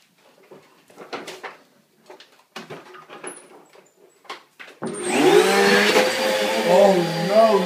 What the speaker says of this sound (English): Oh no, not the Hoover!